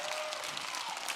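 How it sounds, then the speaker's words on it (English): A studio audience applauds debaters Matt Dillahunty and Dinesh D'Souza, a brief burst of steady, fairly close clapping filling the whole moment. "Please put your hands together for Matt Dillahunty and Dinesh D'Souza."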